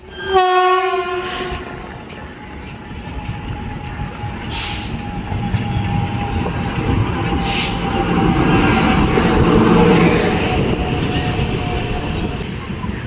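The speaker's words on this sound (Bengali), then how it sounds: "Howrah Dhanbad black diamond express ঢুকছে এখন।" The Howrah–Dhanbad Black Diamond Express rolls into Sheoraphuli station with a loud horn blast at the start, then a long rumbling roar of wheels and carriages as it passes close by.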